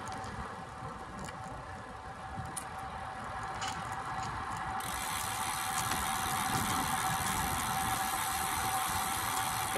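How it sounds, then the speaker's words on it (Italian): A tractor passes on a country road, heard from a road bike during an evening ride under heavy rain clouds. Its steady engine rumble grows gradually louder over a constant hiss of wind. "Trattore."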